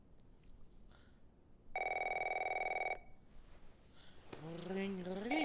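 An in-game telephone in The Last of Us Remastered gives one short, steady electronic ring after a quiet moment. A voice starts speaking soon afterward.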